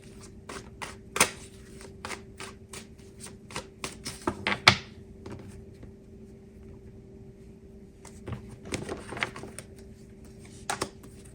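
Tarot cards being shuffled by hand, with quick repeated riffles and flicks in bursts, a pause in the middle, then more soft shuffling; close and fairly quiet, no talking.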